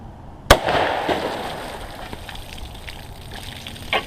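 A single sharp .327 Federal Magnum shot, an 85 grain soft point fired into a water jug, cracks loudly with a broadband burst, followed by a long decaying splash and rumble, then a faint second pop near the end.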